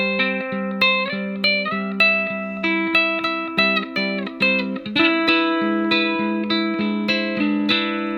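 A plucked ukulele plays a steady strummed pattern through an amplifier, each chord ringing out with a reverberant tail, clear and alone.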